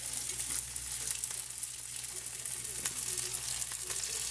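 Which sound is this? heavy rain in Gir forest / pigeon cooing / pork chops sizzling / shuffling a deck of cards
pork chops sizzling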